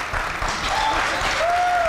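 A short, close burst of audience clapping, a brief wash of hands with a voice rising over it.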